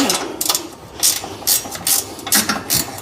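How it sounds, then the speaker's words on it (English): Wrench loosening bolts on the cover of a Husqvarna MZ6128 zero-turn mower: a series of short, bright ratcheting bursts, about six of them, in a fairly steady rhythm, close and clear with no talking. "a 1/2-inch wrench will fit it"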